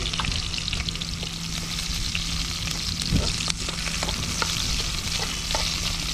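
Onion fries in a hot pan while a ladle stirs it, giving a steady close sizzle broken by sharp scraping and clinking strokes.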